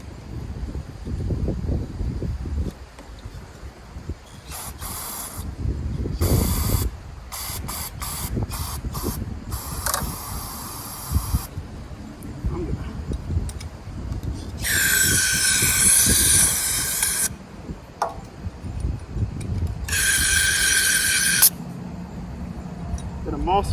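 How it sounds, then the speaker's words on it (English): Spray cleaner hisses in several short bursts of a second or two up the hose of a 14-year-old Briggs and Stratton generator that sat unused for over five years, with someone talking throughout and handling noises between sprays. "I'm going to spray it up the hose as well"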